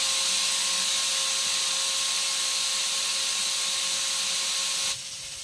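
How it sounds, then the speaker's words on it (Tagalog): A machine sander works over a wooden cross souvenir after routing, giving a steady, loud, hissing whir with a constant tone that continues unbroken, then drops off abruptly near the end. "liniliha ko na ito pagkatapos ma-rotor. Matanggal yung mga magaspang."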